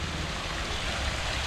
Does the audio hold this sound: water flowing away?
yes